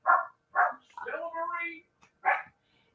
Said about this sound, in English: here come the doggy alarms